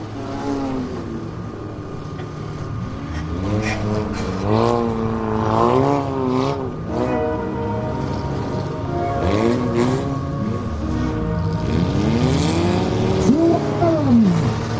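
Demolition derby cars race laps around a winter arena track in Long Prairie, Minnesota, engines revving and rising in pitch as they pass, rumbling continuously at moderate distance with a crowd murmur beneath.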